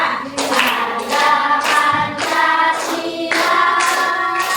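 Children clapping their hands in time along to a song, with loud, close, rhythmic claps repeating in steady groups and singing voices underneath.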